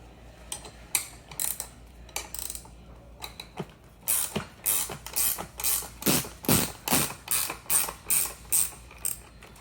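A 1/2-inch wrench ratcheting nuts off the bottom of a bike seat post fitting: sparse clicks at first, then a quick, regular series of ratcheting clicks in short strokes, close and crisp, with no talking.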